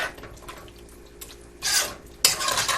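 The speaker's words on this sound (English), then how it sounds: "Now I'm going to stir that up a little bit." Milk is stirred into sweet potato pie filling in a bowl, making soft wet swishing and two louder scraping bursts against the dish.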